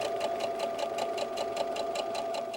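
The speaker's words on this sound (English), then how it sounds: "you can just keep sewing them through the machine all at once" A sewing machine stitches a bear softie's arms and legs, its needle running in a fast, even mechanical patter throughout, close and steady with no talking.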